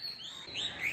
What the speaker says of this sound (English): The sounds of birds which will follow have been recorded from my garden on my